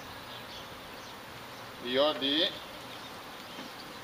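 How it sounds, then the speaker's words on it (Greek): Honeybees around a hive make a steady, soft background buzz, while someone briefly speaks a single word in Greek partway through. "Οι μέλισσες τώρα είναι ήρεμες."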